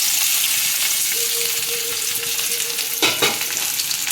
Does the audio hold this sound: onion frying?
yes